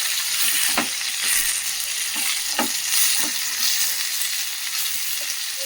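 One or two chopped tomatoes frying in hot oil for a tomato onion chutney, a steady close sizzle with a few light stirring clicks and scrapes, no voices.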